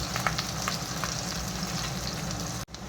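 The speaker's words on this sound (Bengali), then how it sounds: "পেঁয়াজ কাঁচা লঙ্কাটা দিয়ে লাল লাল করে একটু ভেজে নেব।" Onion and green chillies frying in a pan for a rajma masala, a steady crackling sizzle with faint stirring ticks and no talking, broken by a short dropout just before the end.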